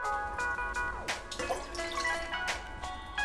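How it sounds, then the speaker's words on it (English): Water running into a cooking pot on a home stove while preparing Korean acorn jelly soup, with steady splashing and dripping and faint clinks throughout, moderately loud and close. "Get a pot and fill it with water."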